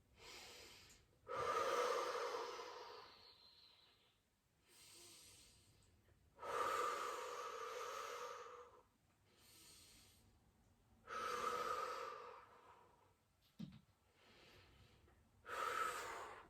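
Slow, deep breaths taken while holding a plank during an abdominal workout, long exhalations recurring in a regular cycle with quiet pauses between them, close and fairly soft.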